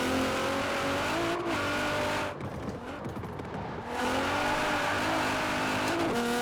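A tuned 1000-horsepower Nissan Pulsar GTi-R in Forza Horizon 4 revs and accelerates through the gears with rising engine tones, a brief lift-off and tire noise in the middle, then pulls hard again, loud and close.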